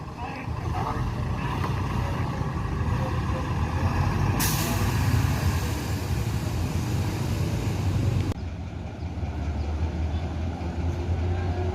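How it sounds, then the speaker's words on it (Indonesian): A Yoanda Prima Medium bus idles with a low, steady engine rumble, and a sharp hiss of air brake release cuts in midway. Talk runs over it, and the engine tone drops toward the end. "Jadi bus Yuanda Prima Medium ini akan menuju Bukit Tinggi"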